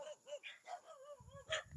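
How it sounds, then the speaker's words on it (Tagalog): Several faint, distant dog barks and yips come in quick succession, with a low rumble of background noise toward the end. "Mga aso na habol. Mangangat pa yan."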